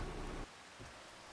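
Rain falling in the farming game Farming Simulator 25, a loud steady wash for under half a second that then drops to a quieter, softer patter.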